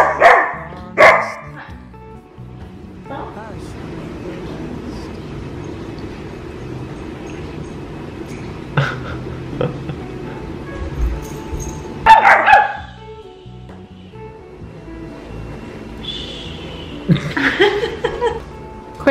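A dog barks for attention in a home, with a few sharp barks near the start and more bursts around the middle and end, loud and close against quiet room tone.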